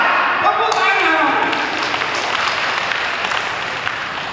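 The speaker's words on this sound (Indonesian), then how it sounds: "Nah, tepuk tangan." Applause from a gathered crowd at an anniversary celebration swells into a broad, sustained wash of clapping, with a voice speaking briefly near the start.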